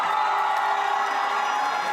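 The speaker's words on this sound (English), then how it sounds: "As you can see, people are excited, people are cheering" An election night crowd cheers and shouts continuously at close range, a loud, steady wall of excited voices and whoops without pauses.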